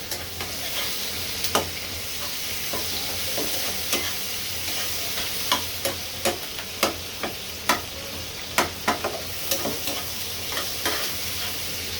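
Shrimp coated in turmeric and salt frying in hot oil, a steady close sizzle with frequent sharp spatters and clinks of stirring scattered throughout, no voices.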